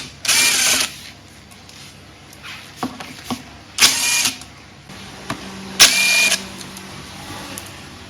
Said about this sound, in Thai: นี้ก็ใช้เป็น 8มิลนะครับ ขันออก